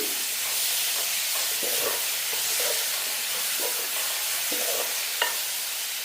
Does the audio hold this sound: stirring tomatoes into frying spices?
yes